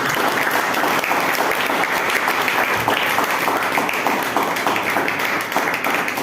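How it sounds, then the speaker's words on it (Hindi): A church congregation claps together in praise, a dense steady wall of applause that stays loud and even throughout with no gaps or pauses. "आइए हम ताली बजाएं प्रभु की महिमा के लिए।"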